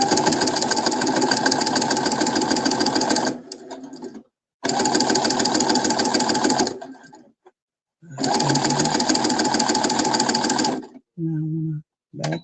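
Domestic sewing machine motor running in three long, steady bursts with short pauses between them, close and loud, as a seam is back-stitched at a home craft table.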